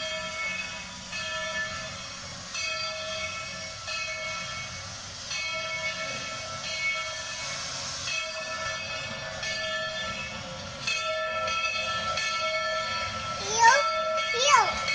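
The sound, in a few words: train in a video with wheels and bell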